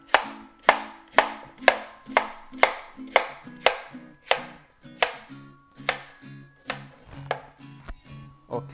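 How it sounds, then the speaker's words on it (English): A knife chops through a vegetable on a board, cutting at an angle: about fifteen crisp, evenly spaced strokes, each a sharp close knock with a short ring, steady throughout and with no talking. "I like to just kind of cut it at an angle here"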